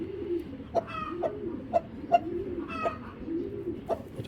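Racing pigeons of a breeding pair cooing close by, a series of soft, rounded coos repeating every half second or so with a few brief wing or movement sounds mixed in; no speech.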